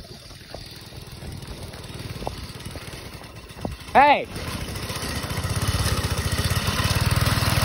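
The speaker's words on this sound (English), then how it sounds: "why is this dude mowing my lawn?" A lawn mower runs steadily nearby, its engine drone swelling louder toward the end, while someone shouts once over it.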